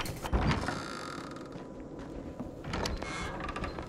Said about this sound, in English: Good thing the demon's opening all these doors for me